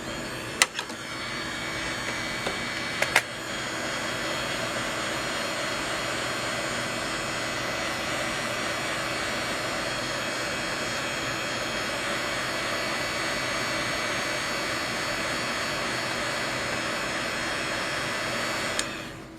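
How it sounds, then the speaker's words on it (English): A heat gun blows steadily for nearly twenty seconds as a broad, even whooshing roar, close and constant, broken only by a few sharp clicks near the start and end. "And again, we've got the heat gun."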